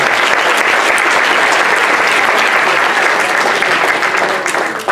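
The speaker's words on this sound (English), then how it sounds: "Let's give them another round of applause." A university audience at a dean's semester address claps in sustained, dense applause, loud and even throughout before tapering slightly at the end.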